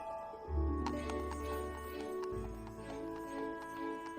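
A horse-drawn carriage rolls along a city street, its hooves clip-clopping in a steady rhythm over a low rumbling hum of wheels, with faint background noise and no talk.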